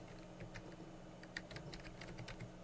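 Steady typing on a computer keyboard, including arrow keys and the backspace and delete keys, a run of light close key clicks over a low constant room hum.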